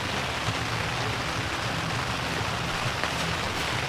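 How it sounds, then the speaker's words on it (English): Steady, heavy rain pours down continuously on a campsite near Leavenworth, Washington, a dense wash of patter on surfaces with no voices. "Still raining hard."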